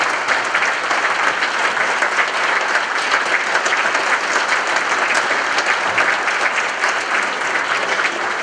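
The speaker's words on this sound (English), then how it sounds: "maybe we have a round of applause for our lovely hosts" Sustained, dense audience applause for the hosts at a veterans' storytelling event, a loud, even roar of many clapping hands that holds steady throughout with no speech.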